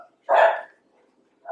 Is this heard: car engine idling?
no